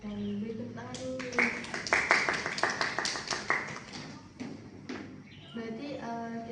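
A small group in a classroom career-counseling session claps hands in a quick run of sharp, evenly spaced claps, with voices talking and calling out before, during and after.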